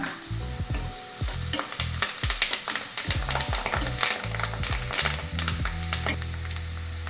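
Curry leaves sizzle loudly in hot tempering oil while a spoon repeatedly scrapes and stirs sprouted moth beans in a pan, producing rhythmic clanks over continuous frying crackle.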